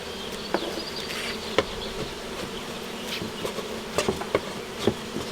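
Honey bees drone continuously around an open beehive, a dense close-up buzz with scattered faint clicks and taps from the hive frames.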